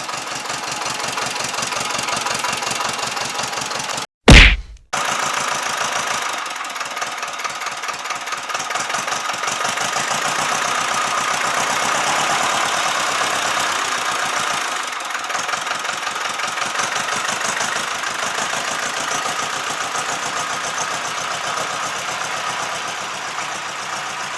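A cold Ursus C-330 tractor diesel engine idles steadily while warming up, with a rough, knocking chug, running close and loud for the whole stretch, briefly interrupted by a sharp burst near the start.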